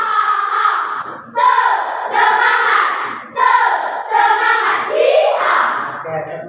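A classroom group performs the tepuk semangat spirit chant, loud voices shouting together in repeated rhythmic bursts of about a second each, close by and energetic.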